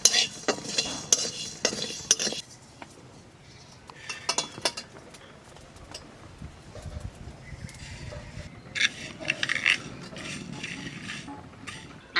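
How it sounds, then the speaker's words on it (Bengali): Cumin and coriander seeds dry roast in a dry pan for a vegetable tok, with intermittent scraping and clinking of a spatula on metal, louder bursts at the start and again near the end over a low background hum. "প্রথমে রান্নবো সবজির টক, তাই কটা শুকনো খোলায় মশলা বাজিয়ে নেই"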